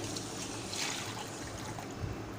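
Three bowls of water are poured from a bowl into a pressure cooker for cooking plain rice. A short, continuous trickling splash runs at close range without a break.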